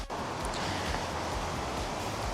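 Wind gusting through a home vegetable garden on a windy day, a steady, full rushing noise with leafy rustle and microphone buffeting throughout, close and constant with no talk.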